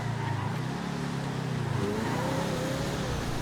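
Picador Loco drag car from GTA FiveM holding a steady engine drone with a faint rising pitch, continuous and fairly loud throughout, with a little game background noise and no talking.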